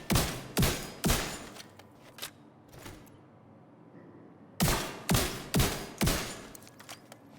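Heavy gunshots from a weapon in Division 2 ring out in two bursts of sharp, evenly spaced blasts with echoing tails and a quiet gap between them, loud and with no talking.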